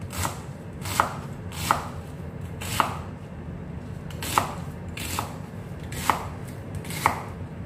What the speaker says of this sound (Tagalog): Hiwain lang natin ng maliliit.